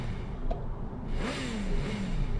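A motorcycle engine revving in Sleeping Dogs, rising and falling pitch sweeps of a mid-range engine at moderate loudness, with a brief clatter near the start.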